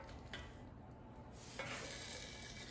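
An air fryer basket is pulled out and a frozen lasagna inside is flipped: a steady sizzling hiss with a couple of brief clattering scrapes of the basket and food.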